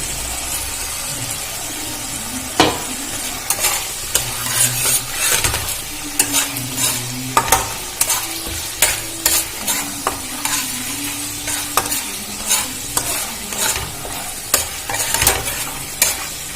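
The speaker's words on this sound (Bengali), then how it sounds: "এবারে দিয়ে দেব গোটা জিরে ফোড়ন" Oil crackles and sizzles steadily as whole cumin seeds fry, while a utensil scrapes and taps against the pan in an irregular rhythm, close and fairly loud.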